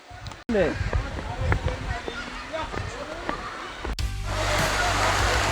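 A person talks over a quiet background, then the rushing flow of a small stream at Adyanpara Waterfalls swells up and continues steadily to the end.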